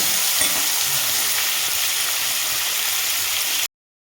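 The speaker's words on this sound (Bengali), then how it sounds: "এবার এই সর্ষের তেলটার মধ্যেই পটলগুলোকে ভাজবো।" Pieces of pointed gourd fry in mustard oil, making a loud, dense sizzle that holds steady close up and then cuts off abruptly.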